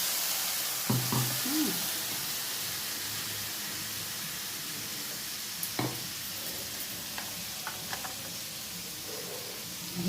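Ground spices tipped into hot oil already tempered with cumin seeds and bay leaf for a vegetable dinner, giving a steady close sizzling hiss with a few faint clinks of stirring throughout.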